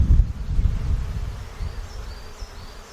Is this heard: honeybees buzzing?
yes